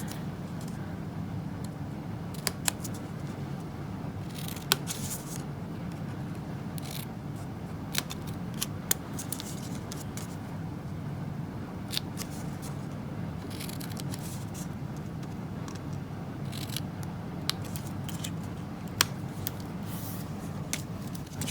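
Paper being cut with scissors for a stamped tulip card banner, steady snipping and scraping strokes spread across the stretch, close and moderately quiet, with no talking.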